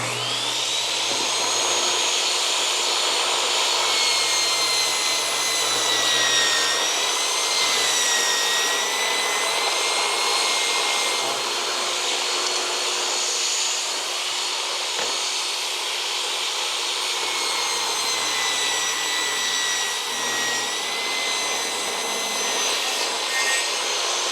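A saw blade cuts through a wood trim board for a gable end rake detail, a long steady whining buzz with shifting pitch as the board feeds through, loud and continuous with no talking.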